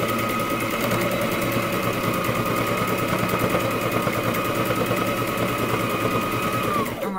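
A sewing machine stitches a rag quilt with a steady, fast, continuous mechanical whirr and rapid needle chatter lasting nearly the whole time, then stopping abruptly at the end.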